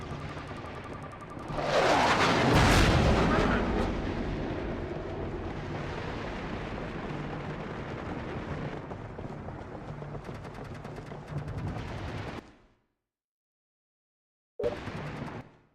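Airstrike explosions in SOCOM U.S. Navy SEALs 3 hit with a heavy booming blast, then a long rumbling roar that fades before cutting to silence and a brief burst of noise.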